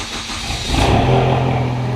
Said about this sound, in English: Let me just start up the car.